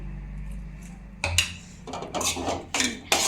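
Spoon clatters against a bowl as lemon juice is stirred into spiced potato vada pav filling, several sharp clinks and scrapes in quick bursts after a low quiet hum.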